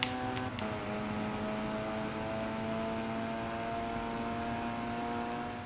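The Lego Arrowhead car's engine in a racing video game holds a steady tonal drone with stacked harmonic lines, after a brief dip at the start, under a constant broadband hiss.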